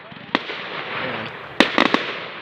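At the finale of a 2016 bonfire night fireworks display at Booths Hall, sharp firework bangs and crackles burst out over a steady background roar, with a crowd murmuring and talking throughout.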